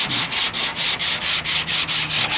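A car body panel is sanded by hand in quick, even back-and-forth strokes, about four per second, each a close, rasping scrape.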